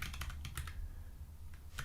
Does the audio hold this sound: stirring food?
no